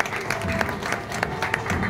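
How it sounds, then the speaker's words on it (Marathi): An audience applauding at a commemorative event, a short burst of dense clapping with a faint crowd murmur. "त्यांच्यासाठी जोरदार टाळ्या झाल्या पाहिजे"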